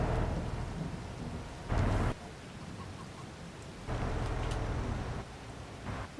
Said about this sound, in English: Wow, big thunderstorm.